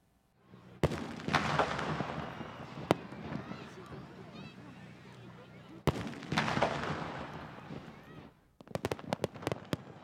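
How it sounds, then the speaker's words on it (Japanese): Fireworks at the Takahama town summer festival over the beach, including underwater fireworks, with loud sharp bursts and long crackling, rumbling sequences in two long volleys, then a rapid cluster of distinct pops at the end. "高浜町恒例の花火大会では名物の水中花火をはじめとするおよそ3200発の花火が高浜の夏の夜空を焦がしました"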